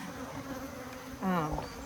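Bees buzz steadily in a low drone, swelling louder and closer near the end as one passes by the microphone.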